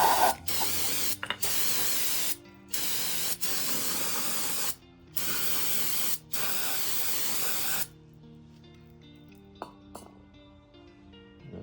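Spray blasting a pump clean with a loud, forceful hissing jet in several long bursts separated by brief pauses, then cutting off to leave faint mechanical clinks and quiet background.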